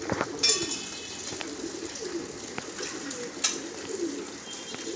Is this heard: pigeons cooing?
yes